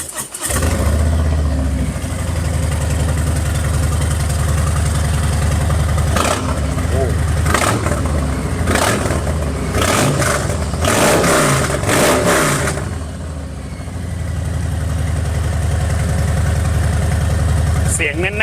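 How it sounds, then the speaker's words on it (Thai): A 2018 Harley-Davidson Street Glide engine idles with a deep, loping rumble, then revs up in several sharp bursts before settling back to idle. "ลองฟังเสียงเครื่องยนต์กันดูครับ"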